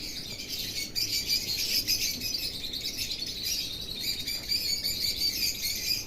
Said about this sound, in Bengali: কিন্তু পাখিগুলো খাবারটা খাচ্ছে।